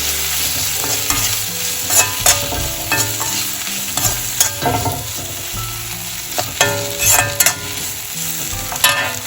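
Cooked plantain is stirred and fried in a pan, a steady oil sizzle broken by frequent close scraping and clinking of the spoon against the pan, loud and without any talk.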